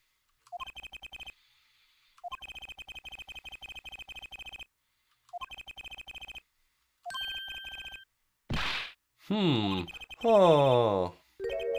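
A telephone rings in the Apollo Justice game, four evenly spaced electronic ring bursts close and clear, followed by chirpy synthetic game voice blips.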